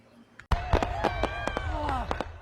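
Fireworks burst overhead at an Independence Day show in Boise, Idaho, a rapid string of loud cracks and booms with whistling trails, over a murmuring crowd and voices.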